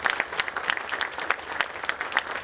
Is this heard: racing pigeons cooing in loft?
no